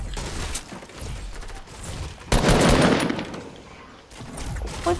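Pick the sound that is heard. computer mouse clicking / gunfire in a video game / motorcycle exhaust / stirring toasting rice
gunfire in a video game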